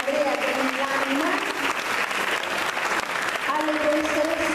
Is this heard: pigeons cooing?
no